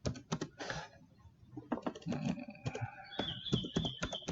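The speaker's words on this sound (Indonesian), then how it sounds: "kita tinggal ketik aja di sini Dani Sugiri" A name being typed on a computer keyboard, with quick clusters of close, crisp key clicks in an uneven rhythm, fairly quiet, with brief pauses between bursts.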